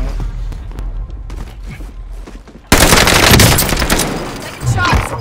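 Gunfire in the video game Warzone: muffled shots and movement give way to a sudden loud, sustained burst of close rapid weapon fire with crackling impacts, and a voice is briefly heard.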